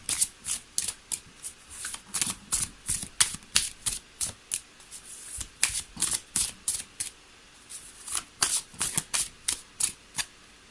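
Tarot cards are shuffled close up in quick, crisp riffling bursts, about two dozen sharp flutters in an irregular rhythm, with no voice over them.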